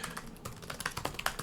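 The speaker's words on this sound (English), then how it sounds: "We can just type in some random spam keyboard," Random keys tapped on a computer keyboard, a quick irregular run of light, close clicks with no voices.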